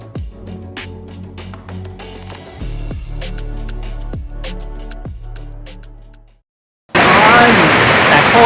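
Ai Khiao waterfall in Khao Luang National Park, Nakhon Si Thammarat, roars as steady broadband rushing water, loud and close. It comes in abruptly near the end, after music and a brief silence.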